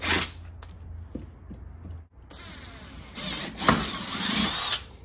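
A power drill with a 3/8-inch bit bores bolt holes for a rear spoiler on a C6 Corvette widebody, broadband whirring bursts rising and falling close by, with brief pauses between runs.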